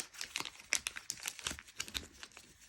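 Paper being folded and creased into an origami crane, a close series of dry crinkles and crisp crunches at an irregular rhythm, fairly quiet and with no talking.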